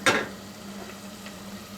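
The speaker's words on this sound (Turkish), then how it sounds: "Unu ekleyince bunu ufak ufak karıştırmaya devam edeceğiz." Flour stirred into homemade tomato soup in a pot: a sharp clink of the spoon at the start, then soft, quiet scraping and swishing with a low steady hum beneath, no speech.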